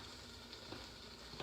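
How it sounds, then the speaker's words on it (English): Pasta sauce sizzling quietly in a non-stick pan, a soft continuous frying hiss with a few faint crackles. "Can you hear the sizzle? Listen to the sizzle."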